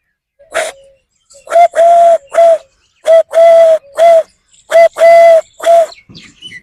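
A human voice imitates a dove's coo, several short hollow notes in uneven pairs and triplets, close and clear with brief pauses between.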